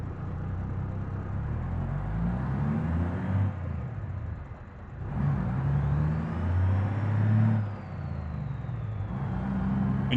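Heavy truck with boosted horsepower hauling weight up dirt hills in BeamNG.drive, its engine a steady low rumble that rises and falls as it revs through gear shifts, alone and close throughout.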